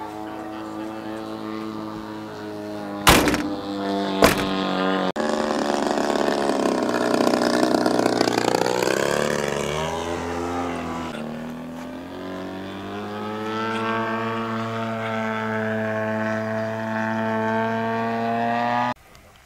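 A high-pitched 6 kW electric model aircraft motor whines loudly for many seconds, its pitch rising and falling as it revs, after two sharp clicks near the start, at a model flying event.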